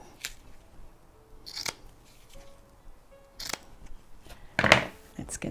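Scissors cutting open-weave craft material for a paper cluster project, several crisp separate snips spaced irregularly, close and fairly quiet with faint handling noise between cuts.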